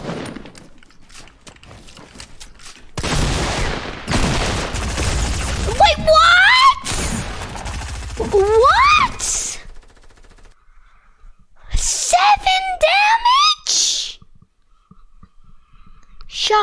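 Shotgun blasts in the Fortnite video game, a few sharp loud bursts spread across the clip between quiet stretches, mixed with someone speaking and short electronic game sounds.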